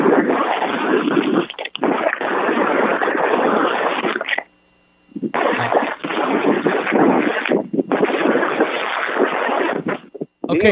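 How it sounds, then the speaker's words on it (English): Strong gusty wind blows through palm trees, roaring and buffeting the microphone almost continuously, with a short lull in the middle and a brief spoken word near the end. "I'm in goddamn palm trees here, and the wind is blowing"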